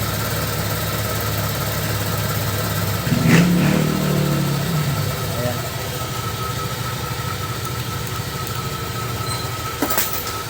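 A Honda Click 150i scooter that would not start, with no check-engine light, fires up and idles with a steady buzzing engine drone and a brief rise in revs, close by, while someone speaks over it.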